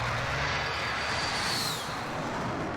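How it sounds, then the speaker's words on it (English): Airplanes passing overhead in the video game Warzone, a loud continuous engine roar that swells and then fades slightly as the aircraft moves past, with no voices. "Take advantage of the planes going overhead to make a bit of noise."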